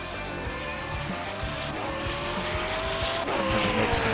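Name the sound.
GT3 race cars driving in racing video game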